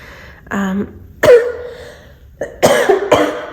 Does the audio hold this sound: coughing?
yes